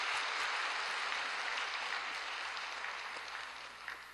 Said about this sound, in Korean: 拍手をしましょう。